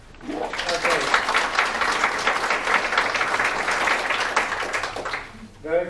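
A workshop audience applauds at the end of a talk on tai chi for health, a sustained round of clapping lasting several seconds, with a voice speaking briefly at the start and end.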